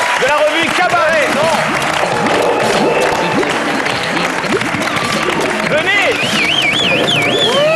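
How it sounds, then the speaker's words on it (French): TV studio audience applause and cheering as a guest is welcomed, loud sustained clapping with whoops and shouts rising above it, music and voices mixing in near the end. "Allez, on applaudit le docteur Teston et on accueille Claire Perrault de la revue Cabaret"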